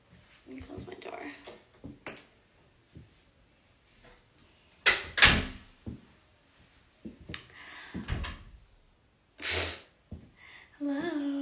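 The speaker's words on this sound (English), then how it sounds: "Let me close my door." An indoor door closes with a few bumps and clicks and one sharp thud midway. The sounds are scattered among talking and other household handling noises.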